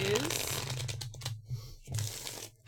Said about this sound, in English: I'm just shuffling